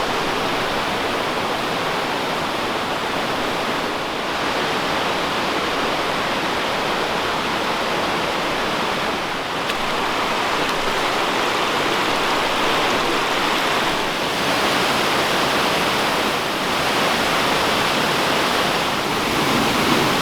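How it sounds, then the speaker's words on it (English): Steady roaring rush of a waterfall at Gordale Scar in the Yorkshire Dales, loud and continuous throughout, with no voices. "Whoa, there's another waterfall."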